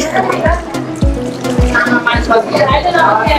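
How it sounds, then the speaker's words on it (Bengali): Hands are washed under a running tap, water splashing steadily with rhythmic thumps and gurgles as the hands move through the stream. "এখন হাত ধোবো, হাত ধুচ্ছি।"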